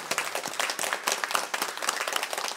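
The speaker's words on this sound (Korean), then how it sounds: "우리 박수로 힘차게 격려해 주시겠습니다" A Korean church congregation at a Sunday service gives a short, lively round of applause for a deaconess taking on an education role, dense clapping close by with uneven bursts and no talk over it.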